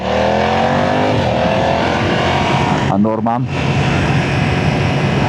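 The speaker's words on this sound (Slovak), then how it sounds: "Aj s tým sériovým výfukom, ktorý je odporný, ale že odporný. Ale zvuk má krásny." A 2025 BMW F900R motorcycle with its stock exhaust runs close and loud, holding a steady, even engine drone throughout, with a brief spoken phrase near the middle.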